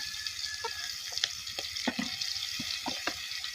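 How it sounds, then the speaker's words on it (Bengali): Garlic and onion paste sizzles steadily in hot oil with fried chili and onion, a constant close hiss broken by occasional soft clicks and scrapes of stirring, with no voices. "এবার এর ভিতরে দিয়ে দেবো দুই চামচ রসুন আর পেঁয়াজ বাটা"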